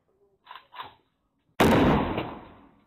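A loud gunshot-like blast picked up by a home surveillance camera on a residential court just after 1 a.m., a sudden sharp burst with a long decaying tail, preceded by faint muffled voices.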